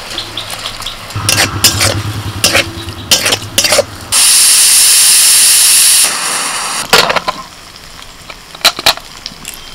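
Washed red lentils go into a hot pan with ground spices and sizzle loudly, a strong steady hiss in the middle amid stirring clatter, then softer frying.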